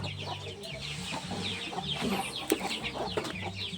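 Chickens cluck and murmur close by while being fed, a busy overlapping chorus of short clucks and low calls with no talking.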